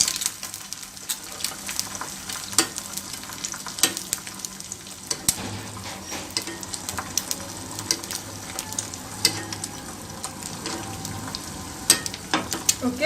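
An egg half-fries in hot ghee without being flipped, a constant crackling sizzle dotted with sharp pops and occasional utensil clicks, close and moderately loud throughout.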